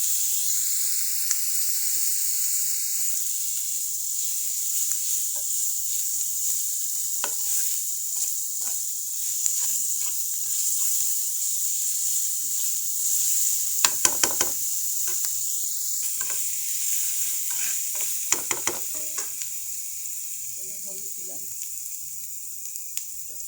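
A paste of cumin, ginger and onion fries in a pan, a constant hissing sizzle throughout with sharp clicks and spoon scrapes now and then, close and fairly loud.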